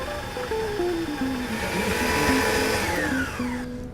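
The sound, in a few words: Waring tabletop mixer creaming butter and confectionery sugar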